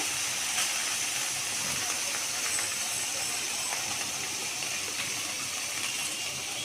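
White mustard paste hits hot oil with ginger and garlic, giving a loud, continuous sizzle and hiss that holds steady, close up and with no talk.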